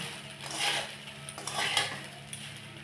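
A spoon scrapes and clinks against a pan while flattened rice (poha) is stirred for chirer pulao, giving soft, irregular scraping and light metallic taps at close range, with no one speaking.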